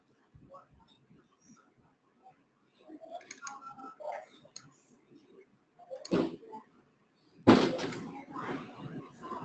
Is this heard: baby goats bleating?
no